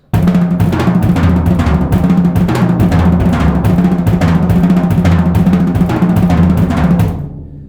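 A faster paradiddle-diddle rolls around a drum kit, a dense, continuous stream of rapid strokes moving between toms and snare, loud and close, then stopping and ringing out briefly.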